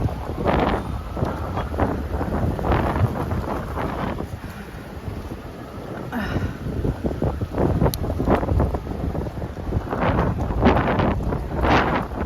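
Strong wind buffets the microphone of a cyclist riding outdoors in Toronto, a loud, continuous rushing roar that swells and dips over the whole stretch.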